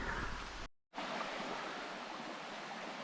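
A countryside stream running near a fell path, with a steady broadband rush of flowing water and a brief cut to silence just before the one-second mark.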